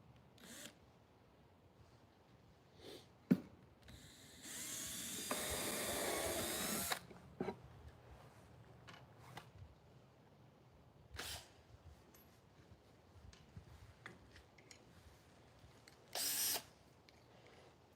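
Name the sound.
power drill drilling wood for a birdhouse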